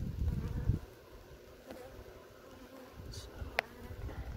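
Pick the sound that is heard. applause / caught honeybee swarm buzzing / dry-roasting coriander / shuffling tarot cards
caught honeybee swarm buzzing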